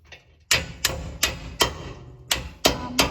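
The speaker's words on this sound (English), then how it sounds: "Hopefully I can use the hammer" A hammer strikes a power steering rack bushing on a Toyota Tacoma, seven sharp metallic blows in an uneven rhythm, close and loud.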